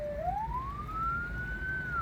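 An ambulance siren wails in a single long rising and leveling sweep, loud and steady over engine and road rumble while the vehicle drives through light drizzle.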